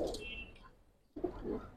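Pigeons in a loft give a couple of soft, low coos, quiet and close, separated by a short near-silent gap.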